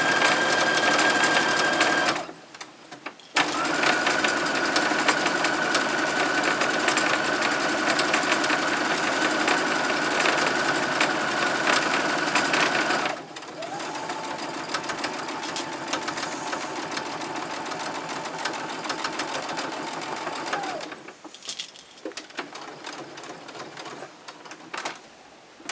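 Close and steady, a sewing machine stitches around an exposed-core cloth mermaid pad, whirring in long continuous runs that stop briefly a few times before starting up again.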